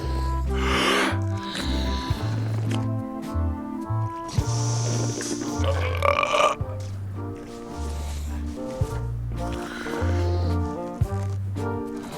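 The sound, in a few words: burping contest in the video game Return to Monkey Island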